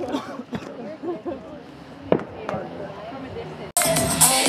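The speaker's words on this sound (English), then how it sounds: "Somebody's lighting off fireworks." Distant fireworks at a racetrack thud and pop a few times under people talking at a wedding reception, then a loud crackling burst erupts near the end.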